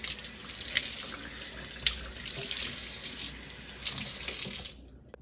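Water pours steadily from a tall kitchen sink faucet onto a cymbal, giving a close, bright, splashy hiss with slight shifts in the flow before it cuts off abruptly near the end.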